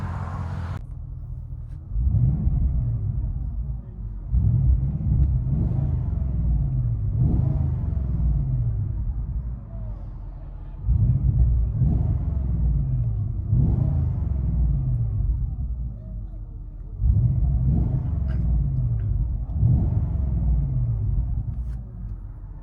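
Heard from inside the cabin, a 2017 Porsche Cayenne Turbo 4.8L V8 with a Fabspeed axle-back exhaust gives a muffled, steady low rumble, swelling into several rising rev pulls and easing back between them.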